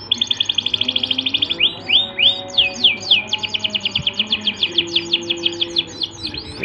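A young finch being hand-fed, with dense rapid chirps and quick sweeping begging calls repeating steadily throughout, loud and close with no talking.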